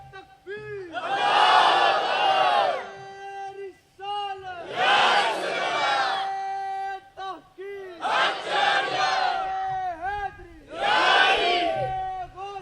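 A large crowd at an Urs gathering roars a Chishti slogan in four long, loud collective shouts, separated by short pauses in which a single voice calls out the lead.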